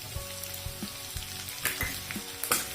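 Chopped garlic, ginger and green chillies sizzle in hot oil, a close crackling fry with a few sharp clinks and stirring scrapes over steady hiss.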